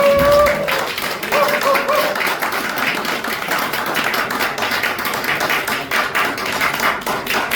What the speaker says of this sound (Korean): 대한민국 예술문화의 거두 이장호 감독님께 다시 한번 큰 박수 부탁드리겠습니다